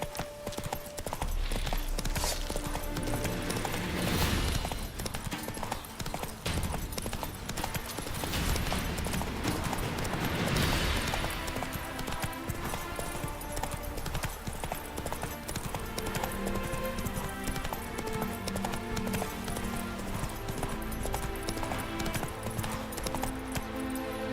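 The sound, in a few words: horse Roach hooves in video game The Witcher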